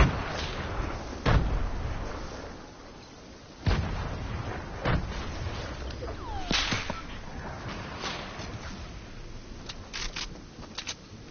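Grenades bursting in a game battle, a series of sharp cracking blasts scattered across the stretch, some louder and nearer, others fainter, with no talking.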